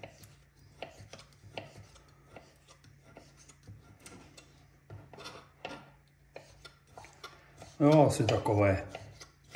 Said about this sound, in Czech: tak si ji nakrájím na poměrně drobnější kostičky